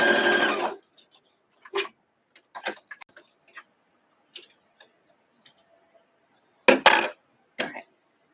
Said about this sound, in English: I get to resew this seam though because I just ripped that out.